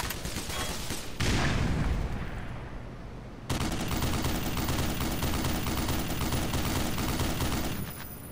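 Heavy Browning .50 machine gun fire in the game Black Mesa: dense, sustained automatic bursts, loud and close, with a brief lull before firing resumes and runs on steadily.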